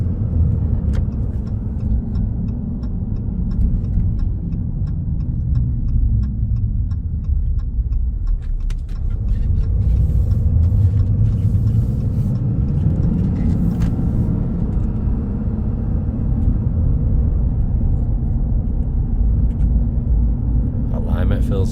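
A RAM 2500 Laramie pickup with 75,000 miles rolls along on a test drive, its steady low cabin rumble and road noise running throughout, with light ticking and someone talking over it.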